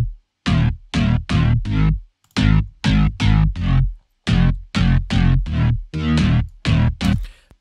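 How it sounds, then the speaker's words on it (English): A layered synth bass stacked from four or five synths, including a sub bass, plays about a dozen loud, punchy notes in a steady rhythm with short gaps between them, alone with no talk. "I think this bass is composed by four synths"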